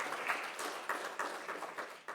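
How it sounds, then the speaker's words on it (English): An audience at a technical and vocational education conference gives a brief, fairly faint round of applause, a steady patter of many hands heard from a distance. "Can you give her a round of applause,"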